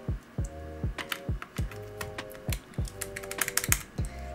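Keystrokes on a thin, modded mechanical keyboard, a quick run of crisp clacks with sharp attacks, some light and some heavier, typed at an uneven rhythm close up with no talking.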